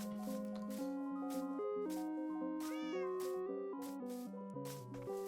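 Minecraft cats meowing in a continuous series of short, tonal mews, several overlapping calls with rising and falling pitch, close and clear with no talk.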